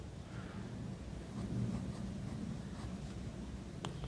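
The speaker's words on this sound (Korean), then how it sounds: "가로줄을 쭉 긋고" Pen dragging a long horizontal stroke across paper while writing Korean characters in a handwriting lesson, a soft continuous scratchy rasp that swells slightly mid-stroke, close and quiet.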